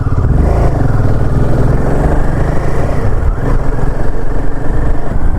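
A motorcycle's mid-pitched engine rumbles steadily at close range during a mountain road ride from Kalpa to Chitkul, with a slight swell as another rider passes by.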